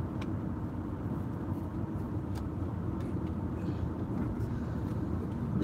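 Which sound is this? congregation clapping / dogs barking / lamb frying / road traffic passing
road traffic passing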